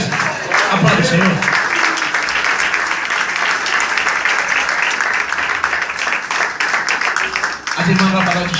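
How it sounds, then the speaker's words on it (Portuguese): A church congregation claps and applauds steadily at close range, a dense, sustained wash of hands with voices calling out and speech mixed in throughout. "Aplauda o Senhor."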